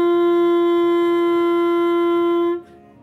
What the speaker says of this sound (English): I'm gonna use an open G because that's a note on the clarinet that makes the syllabic differences pretty obvious